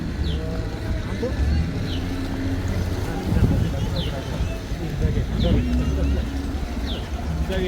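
Several boats out on a lake, a steady low engine rumble and water wash close by, with birds calling above it and people talking throughout.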